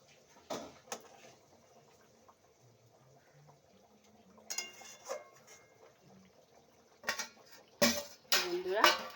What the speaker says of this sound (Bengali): আমি দেখো এখন এই এক এক করে একটা একটা করে মাছ দিয়ে দেবো